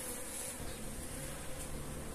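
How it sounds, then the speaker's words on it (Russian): Honeybees buzz inside an autumn hive nest, a close, dense and steady hum that holds evenly throughout with no talking. "пчелы там много"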